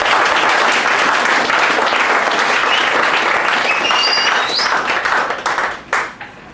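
Church congregation applauding and cheering in praise of the Lord, a loud, dense wall of clapping that holds steady for several seconds before thinning out and fading at the end.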